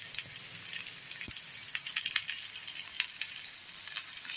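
Green chillies and curry leaves sauté in hot oil in a pan for an Andhra-style green chilli chutney, a soft, steady sizzle dotted with small crackles and pops, close and fairly quiet.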